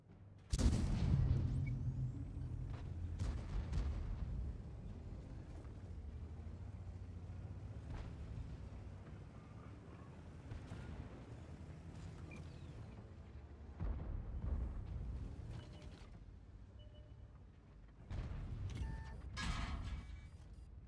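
Artillery fire in the tank battle game World of Tanks, with deep booming blasts and rumbling impacts at the start and again near the end, over a steady low battlefield drone.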